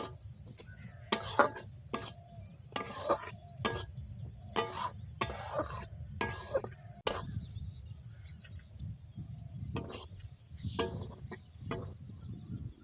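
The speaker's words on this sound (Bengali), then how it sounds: "এবার মশলাটা ভালো করে কষিয়ে নেব" Ground spices (salt, turmeric, cumin and coriander powder) with a splash of water are stir-fried in a pan for a Bengali katla fish curry with chana dal. It sounds like a quiet run of sharp spatula scrapes in irregular bursts, with faint sizzling underneath.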